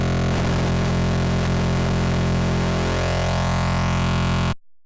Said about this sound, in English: the comb frequency knob is fantastic for getting variations on this, so I'll sweep through that.